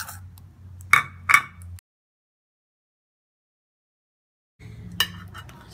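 A spoon stirs a homemade face mask paste in a small bowl, giving a few light clinks against the side, then a stretch of silence before another short round of stirring and tapping.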